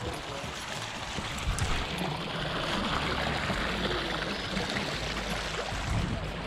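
A creek flows steadily near a TVA boat ramp, making a soft continuous wash of running water at low level with no talk over it.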